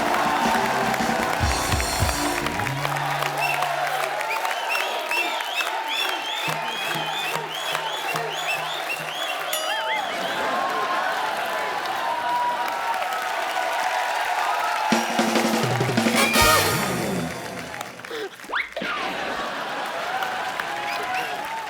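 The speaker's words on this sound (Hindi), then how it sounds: "जोरदार तालियां इस तरफ से भी" Loud studio audience applause and cheering at a comedy talk show, sustained dense clapping across the whole stretch with a few crowd shouts, briefly easing near the end.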